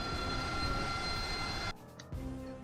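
A jet engine roars in a flight combat game, a broad steady rush with a high whine that cuts off abruptly near the end before a lower hum resumes.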